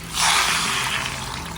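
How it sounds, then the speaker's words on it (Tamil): Water pours steadily into a pan of sautéed crab for a crab curry, a broad rushing splash lasting under two seconds, close and fairly loud with no talk. "வதங்கினோடனே அது முழுகிற அளவு தண்ணி ஊற்றணும்"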